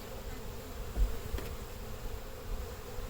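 Honey bees buzz around an open hive during an inspection, a steady close-up drone with a few louder passes as individual bees fly near.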